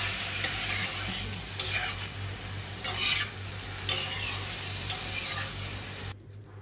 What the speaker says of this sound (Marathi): हे पहा या पद्धतीनं मंद आचेवरती आपल्याला ते फ्राय करायचं आहे